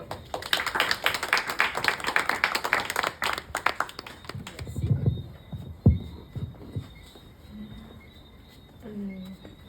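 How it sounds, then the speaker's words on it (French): Audience applause for a woman named Nicole at a French-language talk, dense clapping for the first few seconds, then thinning to scattered claps and murmuring voices with a bird chirping faintly. "Nicole, on applaudit Nicole?"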